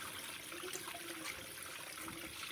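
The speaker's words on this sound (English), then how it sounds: "I'm just draining off the rest of the water" Water draining out of an LG washing machine outdoors with the power disconnected, a steady trickling, splashing flow that runs continuously at a fairly even level throughout.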